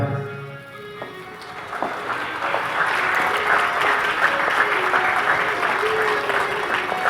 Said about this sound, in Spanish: Recibamos con un fuerte aplauso al psicólogo Samuel